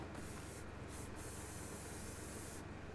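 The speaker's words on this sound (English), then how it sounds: "let's try the bug spray." Bug spray used in the survival video game ARK Survival, heard as a steady, loud hissing spray that runs without a break through the whole moment, with no talking.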